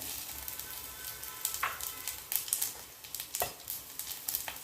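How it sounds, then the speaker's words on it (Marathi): Spices hit heated oil in a pan for a vegetable dish, bursting into a loud, crackling sizzle with sharp pops and spatters over a constant frying hiss, close up and with no speech. "तेल तापूयात मी आता सगळ्यात आधी मसाले टाकून घेत आहे"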